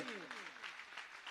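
Audience clapping at a Jain monastic initiation ceremony, a fairly dense burst of applause mixed with a voice and tonal sweeps, steady and moderately loud through the short stretch.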